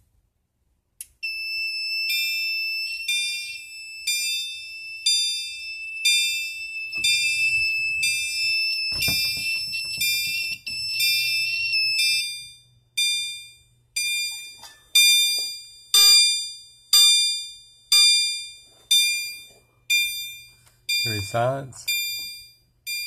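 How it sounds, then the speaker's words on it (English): A CHRL remote chime fire alarm notification appliance, triggered from a BG12LO pull station, rings a steady bright multi-tone chime for about eleven seconds, then pulses in repeated separate strokes, with some handling noise and a brief voice near the end. "for our notification appliance we have the CHRL remote chime"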